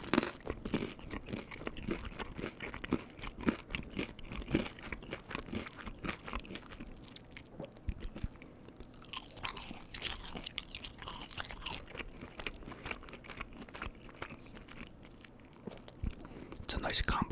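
Close, crisp crunching and chewing of Totino's uncured pepperoni pizza rolls and cheese curds, with steady bites and mouth sounds throughout and faint whispering underneath.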